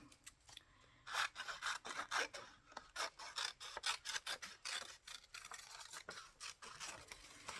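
Scissors snip through paper for a collage, giving a close run of quick, dry cuts and rasping strokes in uneven bursts with short pauses, and no talking.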